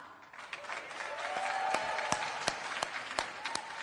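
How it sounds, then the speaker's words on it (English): Audience applause within a played broadcast excerpt swells gradually into a moderate, fairly distant wash of clapping, with a faint tonal line running underneath and a few sharper claps popping out. "They applaud when she says blah, blah, blah, blah, blah, blah"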